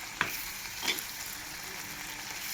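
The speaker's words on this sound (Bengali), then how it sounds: "দিয়ে আমি একটু নাড়াচাড়া করবো" Pumpkin stalks fry in a pan and get stirred, a soft steady sizzle broken by two sharp scrapes of the spatula near the start.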